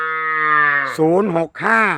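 Native Thai cattle in a farm pen in Roi Et province give a loud, close, drawn-out moo, then a shorter rising call after a brief break.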